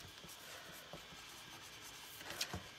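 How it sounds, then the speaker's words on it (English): Marker tip scratching and rubbing faintly across a chalk stencil while lettering a word, soft irregular strokes with a brief louder scrape near the end. "I'm just going to write stem on this one"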